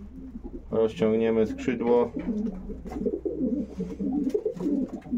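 A racing pigeon coos softly while being handled, low repeated murmurs running beneath close speech, with rustling and handling noise throughout.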